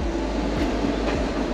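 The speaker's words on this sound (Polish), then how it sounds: "Jesteśmy w pociągu, który pojedzie przez Eurotunel." Train carriage rumble inside a train about to pass through the Eurotunnel, a steady low drone with faint rhythmic wheel clicks, close and continuous with no talking.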